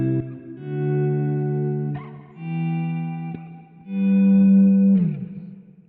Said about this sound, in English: Here we have that swell that I used earlier.